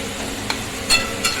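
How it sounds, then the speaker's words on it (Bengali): Chicken sausages drop into a hot pan for a chilli-style dish, bringing a steady sizzle of frying with a few soft clinks and stirring taps over a brief moment, no talk. "কিছুক্ষণ নাড়ার পর এবার সসেসগুলো দিয়ে দেবো।"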